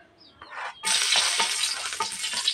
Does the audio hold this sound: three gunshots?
no